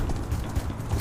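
Galloping horses as a tabletop game sound effect for a Western chase, a brief, steady clip-clop of several hooves pounding close and loud with no voices over it.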